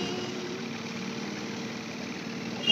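A boat engine idles steadily on the Kerala backwaters at Kumarakom, a continuous mid-pitched droning hum with no talk over it.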